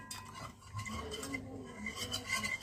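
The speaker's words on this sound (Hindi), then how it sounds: "ठंडे दूध में इसको अच्छी तरह से मिला रही हूँ" Spoon stirring sugar into cold milk in a bowl, a steady scraping swirl with faint clinks of metal against the bowl, continuous and close throughout.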